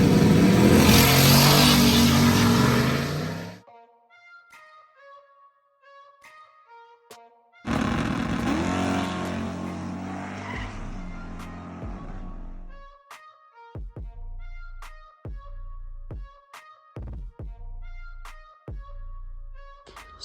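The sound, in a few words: turbo LS Foxbody car being driven, engine revving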